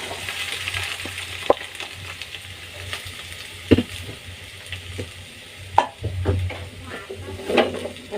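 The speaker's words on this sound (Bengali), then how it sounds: "এখন আমি জালটি কমিয়ে উস্তেগুলোকে তেলের ভিতরে ঢেলে দেব।" Bitter gourd pieces tipped into hot oil in a pan, setting off a steady low sizzle with several sharp clinks and spatters along the way, close by and with no one talking.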